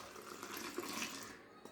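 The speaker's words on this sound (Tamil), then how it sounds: "திருப்பி ஆற்றுறோம்." Milk and water being poured back and forth between two containers to mix them, a steady splashing stream of liquid close by with no talk.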